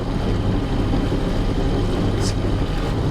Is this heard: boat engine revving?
yes